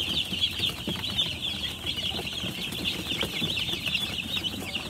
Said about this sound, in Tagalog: Ayan na po mga ka-farmers, yung ating mga sisiw.